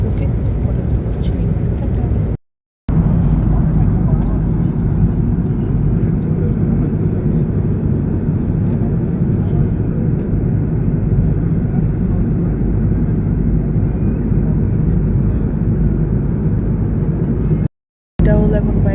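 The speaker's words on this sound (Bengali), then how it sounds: "প্লেন আস্তে আস্তে করে নিচে নামছে" Airliner descending to land on a flight to Malaysia, heard from inside the cabin as a loud, steady, low engine drone, broken twice by abrupt moments of silence.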